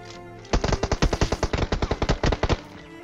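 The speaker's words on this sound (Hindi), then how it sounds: "बिल्कुल एग्जैक्ट उसी जगह पे फायर कर रहा है जहाँ पे मैं हूँ दीवार के पीछे।" Enemy gunfire in a battle royale video game's final circle rattles off in a rapid, loud string of roughly twenty sharp shots over two seconds, with no speech.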